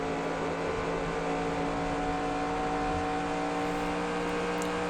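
A NASCAR Cup race car engine from the NASCAR Racing 2003 video game at Auto Club drones at a steady high pitch, a sustained buzzing roar without clear revving changes and no talk.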